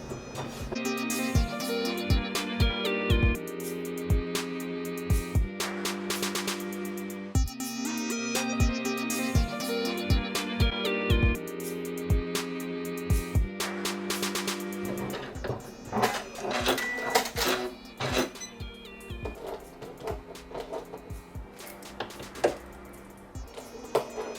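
A Janome 550E embroidery machine stitches red thread onto a patch, its rapid rhythmic mechanical chattering running loud and continuous, with repeated bursts of fast needle strokes and shifting pitch.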